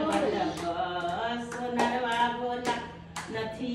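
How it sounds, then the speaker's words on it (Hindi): At home, a man claps his hands in a steady, moderately paced rhythm along with a woman singing a Hindi devotional song, the sharp claps spaced under her melodic voice. "भाई नानी गा रही हैं और ये ताली बजा रहा है।"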